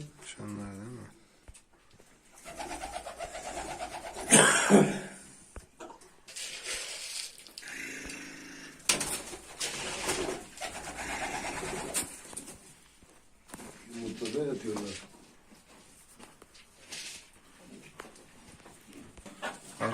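Pigeons coo inside a coop of Mardin play birds, soft low throaty calls repeating through the scene, with someone talking over them nearby.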